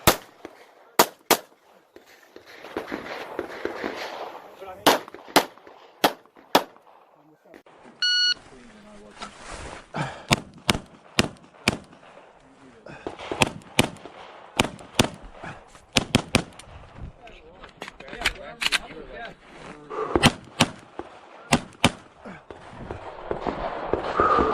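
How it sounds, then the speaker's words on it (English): Glock 34 Gen 5 pistol fired at an IDPA match, with loud, sharp gunshots cracking in quick strings and scattered single shots across an outdoor range, a beep-like timer tone and voices audible between the reports. "literally all three of those shots were like"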